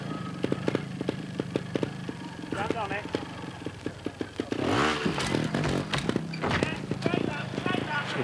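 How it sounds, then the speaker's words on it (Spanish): A trial motorcycle at an indoor X Trial event in Madrid revs and brakes on obstacles, with its engine bursts and clattering heard under a commentator's continuous talk and arena noise. "Fíjate, frenando, cómo resbala la moto."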